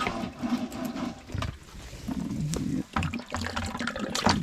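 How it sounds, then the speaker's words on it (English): Antifreeze pumped out of a 60 hp Johnson outboard motor splashes and gurgles onto the ground in an uneven, close, running stream, with no talk. "Oops, I was siphoning all my antifreeze out on the ground."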